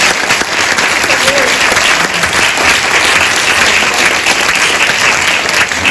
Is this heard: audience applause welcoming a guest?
yes